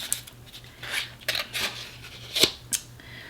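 Scissors clink and snip close by, a few sharp metallic clicks and scrapes against a faint low hum, no speech.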